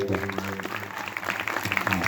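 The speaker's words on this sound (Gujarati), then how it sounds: "તાળી પાડો" An audience claps at a Sai devotional gathering, dense applause that runs through the whole moment with a voice speaking over it.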